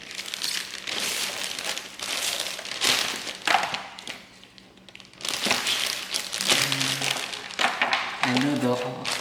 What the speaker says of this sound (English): So now I'm going to put them in this plastic bag.